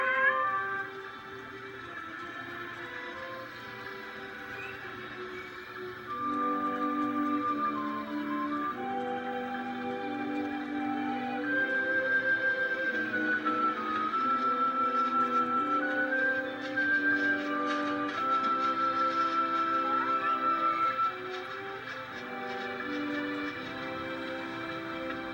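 A cat meows repeatedly during a game, its calls rising and falling over a steady musical background that plays at a fairly constant level throughout.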